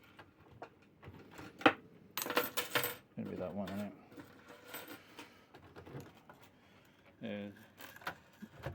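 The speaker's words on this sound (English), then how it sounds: "I've got 3 keys there, I don't know which one's which." A small bunch of three keys clinks and rattles close by in several bright bursts while the right key is picked out for a lock, and someone speaks briefly over the handling.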